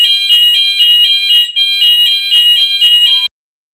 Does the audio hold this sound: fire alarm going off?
yes